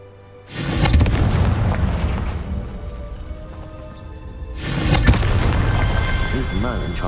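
Two loud, booming fire-spell blasts in Hogwarts Legacy, the Confringo explosions arriving a few seconds apart, each roaring and then rumbling away.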